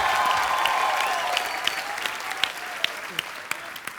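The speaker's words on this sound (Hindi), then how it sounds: "एक बार जोरदार तालियां हो जाए नूरा सिस्टर्स के लिए।" A studio audience on The Kapil Sharma Show breaks into loud, sustained applause that fills the room, with a few sharper individual claps standing out as it carries on.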